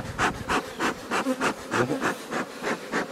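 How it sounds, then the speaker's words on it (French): Honeybees crowd a hive frame in an amateur beekeeper's apiary, a close, dense buzz swelling and fading in a quick regular pulse of about a dozen surges over a few seconds. "Différence au niveau des abeilles, celle-là elle est pleine d'abeilles."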